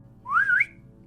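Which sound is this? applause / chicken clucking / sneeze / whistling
whistling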